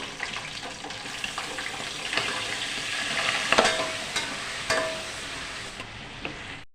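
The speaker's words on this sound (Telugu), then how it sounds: "మనమైతే ఎగ్స్ ఫ్రై చేసుకుంటున్నామండి" Eggs fry with a pinch of turmeric in a kadai, a steady hissing sizzle under scraping and stirring clicks of a utensil against the pan, with a few sharper knocks midway.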